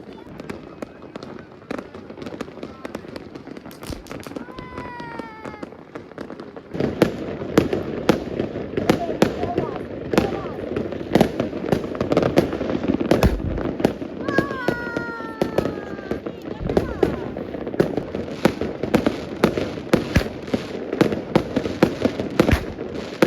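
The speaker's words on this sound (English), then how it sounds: "My son had bought a few fireworks for the kids" Fireworks go off at a New Year's celebration in Sicily, with a dense stream of sharp crackling bangs and pops, some near and loud, along with whistling rockets rising, while people talk and call out in the background.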